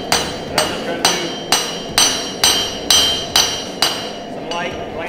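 A hammer strikes a hunting knife blade being forged, nine light glancing blows on the anvil in a steady, evenly spaced rhythm, each a bright close ringing clang that decays quickly.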